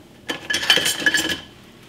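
Sugar stirred into raspberry and wild berry zinger tea in a pot: a brief burst of close metallic spoon clinks and scraping against the pot, lasting about a second.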